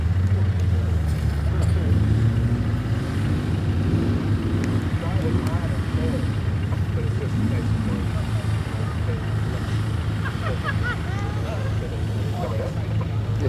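A Land Rover grinds along off-road in low gear with a loud, steady engine drone, and the pitch shifts as it changes up through the gears. Voices talk over it on and off.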